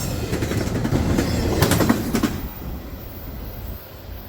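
A Norfolk Southern freight train rolls past nearby, a loud steady rumble of wagons with rhythmic wheel clatter and a brief burst of metallic clacks before it fades into a quieter, distant hum.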